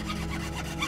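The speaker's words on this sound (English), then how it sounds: "We're gonna chisel our way to a key." A short burst of rasping, scraping chisel work in the puzzle game Grim Tales: Graywitch, a rough gritty grinding like a blade worked against wood, continuous and close with no voices.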